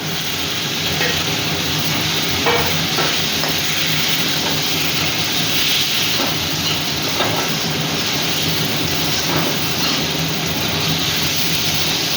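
Fried pointed gourd is stirred into a sizzling curry spiced with Kashmiri chilli powder and turmeric. A loud, continuous sizzle and frying hiss runs throughout, with scattered scraping stirs in the pan.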